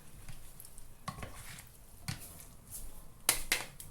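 Pasta coated in a creamy salmon sauce is stirred in a pan, with soft sticky scraping and wet squelching strokes coming in irregular bursts, quiet and close, with light utensil clinks near the end.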